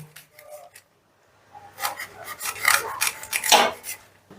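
A knife slices gondhoraj lemon leaves finely on a board, quiet handling first, then a run of close, raspy cutting strokes in quick succession.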